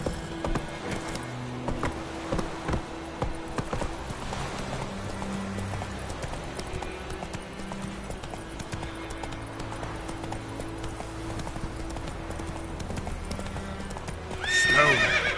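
Horse hooves clip-clopping steadily at a gallop in The Witcher 3 video game, with a whinny or neigh and music in the background, ending in a louder burst near the close.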